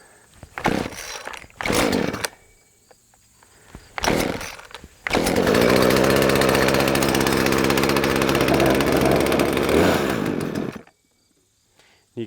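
A chainsaw that has been primed and had its throttle pulled out coughs through two or three short attempts, then catches and runs loudly and steadily for several seconds before abruptly cutting out.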